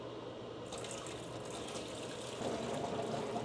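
Soaked red lentils are poured into a cast iron pot, a soft continuous wet rush and patter that swells slightly toward the end, faint and with no voices.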